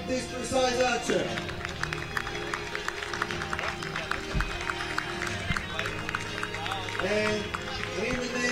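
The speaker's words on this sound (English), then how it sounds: "Give a warm round of applause to this precise archer." An audience at a European youth archery championship ceremony claps for an award-winning archer. Steady applause runs throughout, mixed with an announcer's amplified voice and background music.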